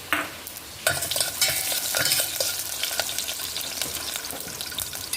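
Cumin, mustard seeds and onion frying in virgin coconut oil for Andhra-style pappu charu: a sudden loud sizzle bursts in and keeps crackling, with repeated stirring scrapes over it.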